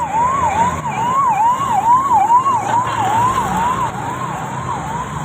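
A loud, rapidly rising and falling siren from a former chief minister's motorcade in Pune sounds repeatedly and close by, with road traffic rumbling underneath.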